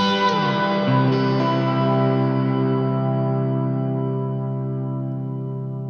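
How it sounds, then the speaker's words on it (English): An electric guitar played through a shimmer reverb pedal rings out as a sustained chord with a bright, high-pitched, swelling tail that slowly fades over several seconds, with no talk. "it still gives you that huge tail and just that really pretty, high shimmery reverb"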